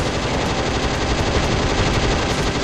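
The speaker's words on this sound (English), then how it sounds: "And this is why we have the assault rifle." Rapid automatic assault rifle fire in the video game Doom, a loud, continuous stream of shots with an even rhythm that never lets up across the whole stretch.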